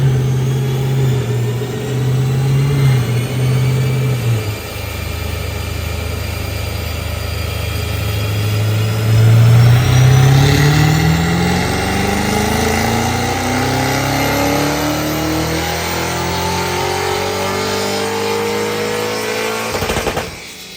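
Engine of a Cadillac CT5-V Blackwing revving on a dyno during a pull in 7th gear, rising steadily in pitch for a long, loud sweep before dropping off sharply at the end, with no talking.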